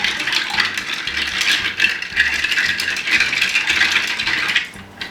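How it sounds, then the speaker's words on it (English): Ice and a spoon rattling steadily in a glass while stirring a Manhattan cocktail, the ice's imperfections making a fast, loud, continuous clinking stir that fades near the end. "They have sort of imperfections, and so it makes for a very loud stir."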